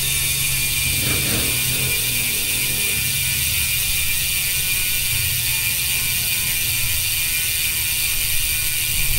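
A gravel bike's stock hub freewheel ratchet clicks in a fast, continuous buzz with a steady whir, heard up close with no talking.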